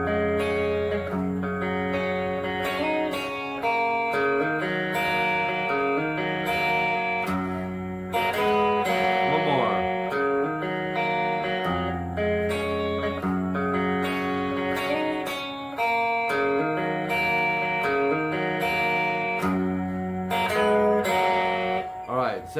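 The guitar riff repeats several times in a row on a slightly distorted electric guitar, with steady strummed phrases and ringing open strings, played close and loud.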